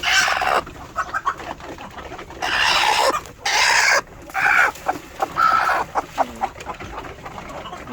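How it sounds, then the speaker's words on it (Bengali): A hen on a farm clucks in repeated bursts of squawking and cackling, loud and close, with short quiet gaps between calls and no talking. "তো দেখবো এই মুরগিটা তো এখানে বসে আছে"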